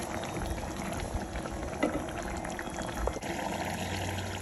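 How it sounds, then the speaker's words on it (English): A pot of kontomire stew with smoked mackerel boils with a continuous low bubbling and gurgling. The sound stays fairly quiet and even throughout, with no voices. "you allow it to boil for some time"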